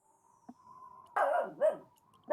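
A dog in the Broken Sword: Shadow of the Templars adventure game lets out a couple of sharp, close barks over a faint steady tone, with short gaps of quiet between them.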